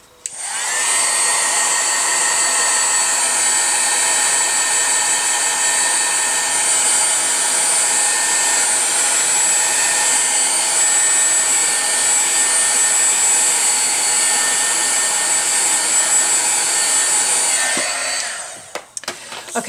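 A hair dryer blows steadily for about eighteen seconds to dry watercolor paint, a loud, close, constant whirring hum that cuts off abruptly near the end, followed by a few small clicks.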